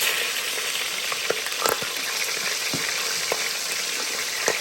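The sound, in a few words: meat searing in an Instant Pot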